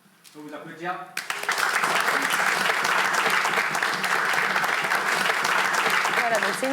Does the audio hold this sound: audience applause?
yes